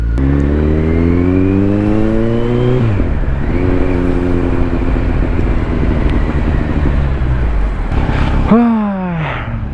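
A Kawasaki Z900 motorcycle ridden through Saturday traffic on Sukhumvit Road: its engine sounds close and loud, climbing steadily in pitch, dropping sharply at a gear change, then surging again, with a quick rev-and-drop near the end over constant wind roar.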